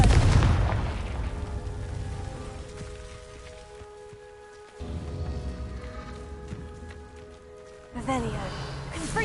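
Confringo explosion spell cast in a PS4 video game, a heavy booming blast with crackling rumble, followed by a second sharper burst near the end, over a dense, continuous noisy game soundscape.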